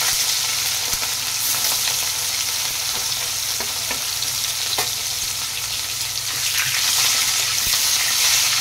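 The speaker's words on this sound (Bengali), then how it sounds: "তেল গরম দিয়ে রাখে, এখন মাছগুলো ভেজে নেব।" Fish pieces rubbed with salt and turmeric fry in hot oil for a mango-sour fish curry, giving a steady, close, loud sizzle throughout with faint clinks of stirring and no talk.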